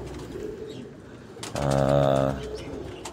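A Pakistani pigeon on a rooftop gives a low, throaty coo up close, one rounded call lasting about a second amid faint background noise.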